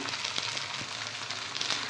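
Coarsely ground fennel seeds hitting hot oil in a pan, giving a steady close sizzle with faint crackles and light stirring, no voices.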